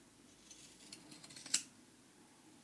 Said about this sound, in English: Get your pinking shears.